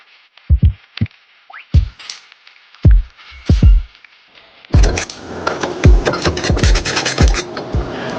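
A hand scraper rasps across an engine surface on a Toyota forklift during an engine swap, with sharp scratching strokes first spaced out, then a busier run of quick, close scrapes.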